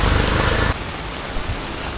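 Heavy monsoon rain pours down during a storm that has toppled trees and pushed drain water up into the street, a dense steady hiss that is loud for the first moment and then eases to a softer, continuous wash.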